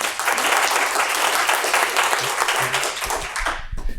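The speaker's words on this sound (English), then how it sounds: "Can I get applause for Alexander?" An audience applauds a conference speaker at a Plone event, a dense steady roar of many hands clapping that tapers off near the end.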